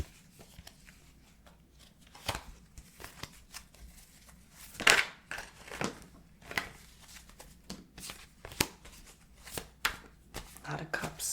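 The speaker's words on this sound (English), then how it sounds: "I hope you enjoyed this card shuffling." Tarot cards are shuffled close by in a steady run of crisp riffles and soft slaps, with sharp bursts recurring every second or so and no talking.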